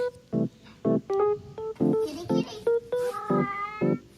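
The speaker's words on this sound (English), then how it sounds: "listen carefully for meows" A cat meows repeatedly in short, high calls, about a dozen in quick succession, fairly close and clear against a quiet background.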